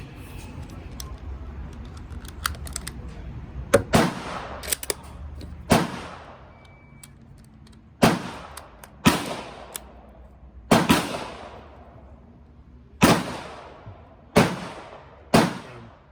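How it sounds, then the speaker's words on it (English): Suppressed .357 Magnum shots from a Ruger 77/357 bolt-action rifle with an 18-inch factory-threaded barrel ring out outdoors: about a dozen sharp cracks spaced a second or two apart, each with a short decaying tail. "Let's see what the 357 Magnum sounds like."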